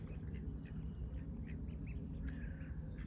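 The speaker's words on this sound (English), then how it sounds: "There's the ducks." Ducks quacking at a yacht harbor, several short squawky quacks scattered over a steady low background rumble, moderately distant.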